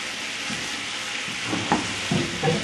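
A simple ground meat sauce being stirred in a frying pan, loud continuous sizzling with a few soft scraping strokes of the spoon toward the end.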